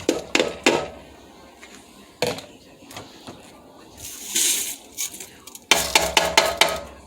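A pot of rice for broccoli, rice and cheese, made with 12 cups of water and 6 cups of rice, is stirred with a spoon in irregular bursts, with close metal scrapes and clatters.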